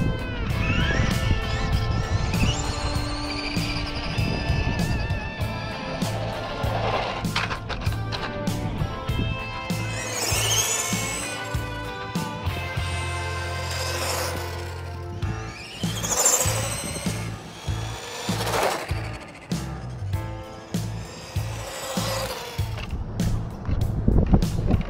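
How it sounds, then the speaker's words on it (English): A vintage Tamiya Hornet RC car fitted with a Technipower motor and running on a nickel-metal hydride battery makes a fluctuating whine that rises and falls as it speeds up and slows down, with rattling and rolling noise throughout. "Hornet with a Technipower motor on a nickel metal hydrate battery with a Sky RC attached to it to see how fast it goes"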